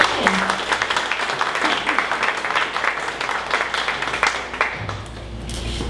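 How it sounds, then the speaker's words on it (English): Steady applause from an audience at a 1 Million Cups Dallas startup community meeting, a dense clapping wash that lasts several seconds and thins near the end, with some voices mixed in. "Round of applause for Ryan."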